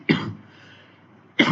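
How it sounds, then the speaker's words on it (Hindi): Two sharp, close coughs from a single person, one at the start and another just before the end, separated by quiet breathing. "सॉरी, खांसी मुझे बहुत हो रखी है।"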